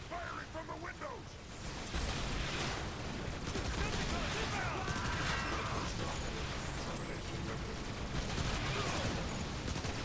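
Gunfire from windows in Transformers War for Cybertron, rapid mechanical weapon bursts and clattering shots mixed with game noise, with voices talking over the steady firefight.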